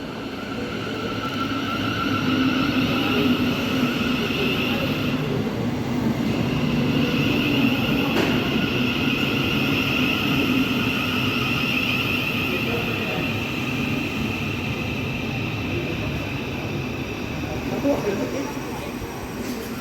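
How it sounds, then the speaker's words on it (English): A British passenger train bound for Farringdon and terminating at Peterborough rolls along with a loud, continuous rumble and a steady whine that holds for the whole stretch. "Here is my train taking me to Farringdon"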